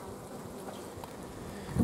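Honey bees hum steadily inside a hive, a close, dense drone that holds without pause and swells slightly at the very end.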